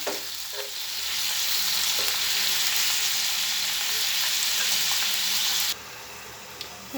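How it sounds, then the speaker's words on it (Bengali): Onion, garlic, cumin and salt fry in hot oil for a Bengali rohu fish curry with potato and eggplant. A dense, steady sizzle is stirred throughout and drops away sharply near the end, with no talking. "আর দিয়ে দিলাম লবণ পেঁয়াজ রসুন জিরা এগুলো দিয়ে ভালো মতো কষিয়ে দেবো"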